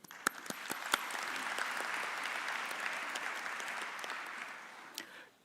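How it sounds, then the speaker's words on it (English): Sustained applause for graduates at a university graduation ceremony at Unisa, a dense steady wash of many hands clapping from a large audience, with a few sharper claps standing out near the start and end. "So let us give you a round of applause."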